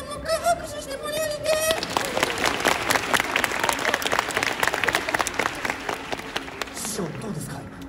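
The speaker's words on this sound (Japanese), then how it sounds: "みんなもう一回拍手してもらえる" An audience claps at the Universal Monster Live Rock and Roll Show at Universal Studios Japan, dense steady applause lasting throughout after a short opening with a voice over it.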